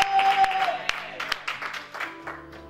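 A worship congregation applauding, with a burst of clapping and crowd noise mixed with musical tones and voices, fading toward the end.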